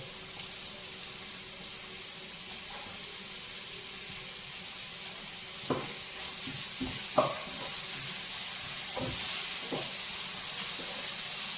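Crushed ginger, garlic and coconut sizzle in a hot pan with cooked-down onions for a clam fry, a steady frying hiss broken by a few scraping stirs of the spoon, close and alone.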